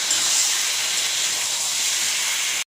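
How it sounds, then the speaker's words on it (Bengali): Chicken with tomato fries in a pan with a loud, steady, close hiss of sizzling that holds evenly before stopping abruptly. "এইবারে মাংসটাকে ভালো করে কষাতে থাকবো"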